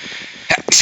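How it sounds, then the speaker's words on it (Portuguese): A person sneezes once, abruptly and close, after a brief intake of breath, cutting through a quiet room. "Vou espirrar."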